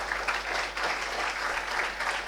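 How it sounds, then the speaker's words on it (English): An audience applauds a panel at a women's livelihood and social justice event, a brief burst of dense, even clapping filling the room, steady and fairly loud from start to finish. "give another round of applause for this amazing panel"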